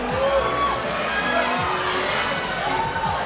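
A crowd at a collegiate sport climbing national championship cheers and whoops continuously for a climber, with loud overlapping shouts and a dense roar filling the space throughout.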